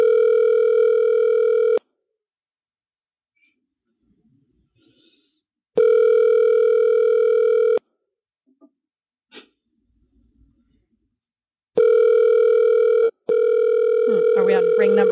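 Three long ringback tones from a phone call in progress, loud and steady bursts of about two seconds each with silent gaps, the last one briefly broken; faint breaths and small noises sit between the rings.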